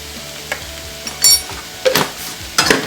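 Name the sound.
potato masala with salt and turmeric stirred and sautéed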